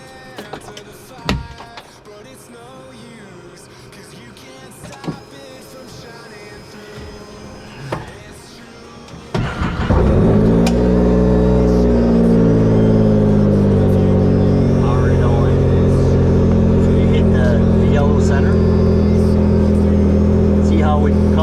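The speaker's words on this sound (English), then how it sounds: "So I'll turn the machine on and show you guys what it looks like when you first turn it on." A Can-Am Maverick R side-by-side starts up after a few clicks and knocks, its engine catching with a loud burst and then settling into a steady, close idle that runs to the end.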